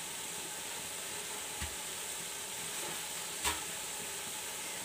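Vegetable pulao made with boiled rice and cinnamon being stirred in a pan, a quiet soft scraping with a faint sizzle and a couple of brief clinks, no voices.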